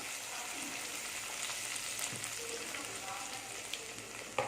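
Asafoetida tempering sizzles in hot oil for a Tamil ezhukari kootu, a soft continuous frying hiss with light crackles and a small pop near the end.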